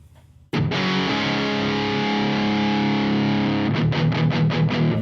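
Heavily distorted electric guitar played through an STL Tones amp plugin with gain maxed, a loud sustained chord ringing out, then a burst of rhythmic chugging stabs near the end.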